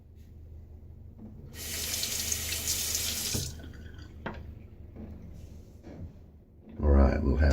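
A water tap runs into a sink while a Gillette d'Luxe safety razor with a Personna blade is rinsed, a bright rushing stream for a couple of seconds, then drips and clinks, and a second gush at the end.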